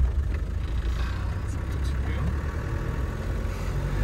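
A car crawls along in a low gear on a Moroccan drive, its engine a steady low rumble heard from inside the cabin, fairly quiet and without talk.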